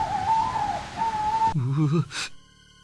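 An owl hoots in Discworld, the video game: a steady wavering call comes twice, then gives way to other game sounds, a low warbling tone and a short burst, before the clip goes quiet.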